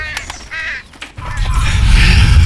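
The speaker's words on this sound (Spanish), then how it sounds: "Pájaro." A crow caws in the Condemned: Criminal Origins video game, a few loud close harsh calls early on, then a rising low rumble of ambience swells underneath.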